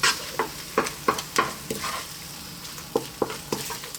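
Ribeye steak tossed and stirred in a hot pan with the heat off, giving a low sizzle under a steady run of sharp scraping and clattering knocks, roughly a dozen spread over the clip, fairly close.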